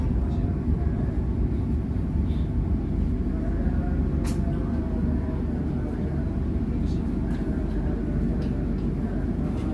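Gumarang long-distance passenger train on the Pasar Senen to Pasar Turi route pulling away from a station, a continuous heavy low rumble with faint scattered clicks and distant voices underneath.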